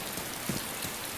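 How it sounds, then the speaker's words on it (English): Steady rain falls in the DayZ video game, a dense, even hiss of drops with no voices over it. "it definitely rains way more in this damn game than it does here"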